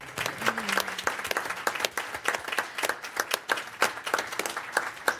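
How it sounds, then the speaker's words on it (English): A general session audience applauds a judge retiring from the court after more than 31 years, many hands clapping in a brisk, uneven patter at moderate distance, lively throughout with a brief voice at the start. "Can we clap it up for that?"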